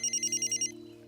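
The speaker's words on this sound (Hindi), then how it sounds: "पापा फोन बज रहा है, उठाओ ना।" A telephone rings with a rapid trilling bell, about seven quick bursts in a steady pulse before cutting off, over a low hum in a quiet room.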